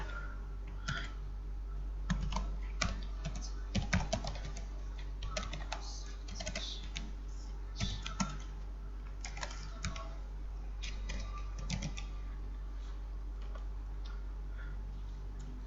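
Code being typed on a computer keyboard in the Dev-C++ editor, with quick irregular bursts of close, crisp key clicks and short pauses throughout.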